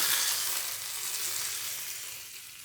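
Curry leaves and urad dal crackling in hot tempering oil with mustard for coconut chutney, a bright, close, steady sizzle that eases slightly toward the end, with no talk.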